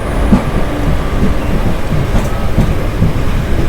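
A Mangaluru Express train on the Konkan Railway line rumbles past steadily at close range during heavy monsoon rain, a continuous dense roar of wheels and carriages with no voices.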